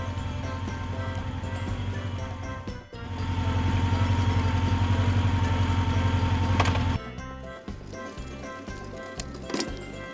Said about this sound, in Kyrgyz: Мотоцикл.